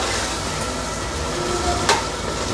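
Vegetable biryani mixture with curd is sautéed in a pan, a steady close sizzle and frying hiss running throughout, broken by one brief scrape or knock of a utensil near the end.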